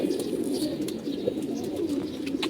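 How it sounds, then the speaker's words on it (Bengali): Black gola racing pigeon cooing in a loft, a steady low murmuring coo that runs continuously through the clip, fairly close, with faint chirps above it. "এই যে একটা কবুতর দেখতেছেন"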